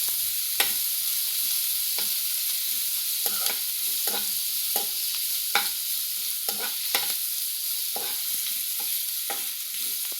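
Vegetables and capsicum stir-frying in a pan over high flame: a bright, steady hiss of sizzling oil punctuated by regular spatula scrapes and taps against the pan, close and without speech.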